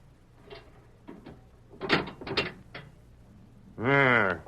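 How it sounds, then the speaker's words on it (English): A door lock and latch worked in an old-time radio drama: scattered metallic clicks and rattles of a key and bolt, then a louder sustained creak as the door swings open, with no talk over it. "Unlock that door."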